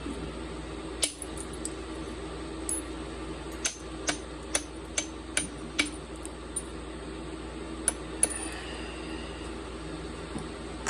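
A hammer strikes metal for thinning percussion, a series of sharp, separate taps at an irregular, unhurried pace over a steady low hum, close and fairly quiet.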